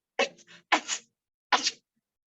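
A person sneezes in a storytelling scene: two quick breathy build-up bursts followed by a sharper full sneeze, close and clear against silence.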